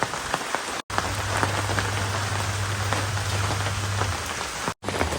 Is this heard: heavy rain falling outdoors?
yes